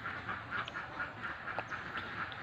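Domestic village ducks quack in a roofed pen after returning from the rice fields, a run of repeated nasal calls in a steady rhythm at moderate distance.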